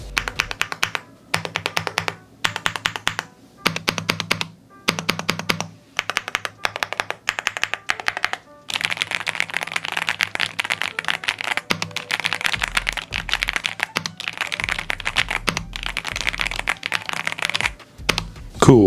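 Typing on a YUNZII AL98 aluminum full-size mechanical keyboard, first in short bursts of clacky keystrokes with pauses, then a long dense run of rapid key presses, close and crisp with no talking.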